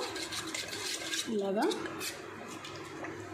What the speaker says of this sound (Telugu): కొంచెంగా వాటర్ వేసుకుంటూ ఇందులోకి ఈ పిండి మొత్తం ముద్దలుగా లేకుండా నీట్గా మిక్స్ చేసుకోవాలన్నమాట